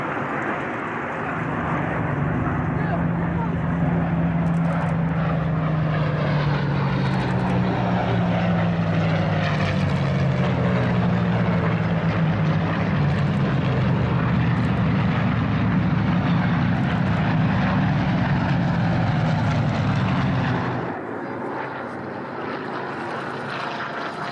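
A mass formation of Spitfire aircraft roars overhead at the Duxford airshow, a loud, sustained propeller-engine drone that swells and shifts in pitch for about twenty seconds before cutting away to quieter background.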